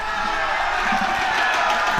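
Crowd at a CS:GO esports grand final between Astralis and Team Liquid, a steady roar of cheering and whooping from a large audience, loud and continuous throughout with no break.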